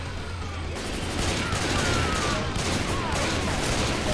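Rapid, dense gunfire from a zombie-fighting session of the video game Left 4 Dead 2, a loud sustained barrage of overlapping shots with chaotic game noise, steady throughout with no pause.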